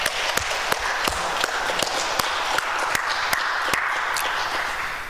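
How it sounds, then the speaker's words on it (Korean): Applause of praise from a church congregation during a Sunday service, a continuous wash of clapping with sharp individual claps standing out, moderately loud and steady throughout. "하나님 앞에 찬양의 박수 올려드리겠습니다"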